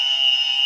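A single harsh electronic buzzer blares at a steady pitch for under a second, loud and alone.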